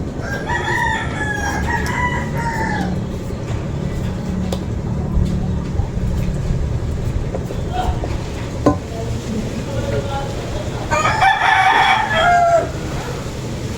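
A rooster crows loudly several times while native chickens cluck nearby, with outdoor background noise and faint talking underneath.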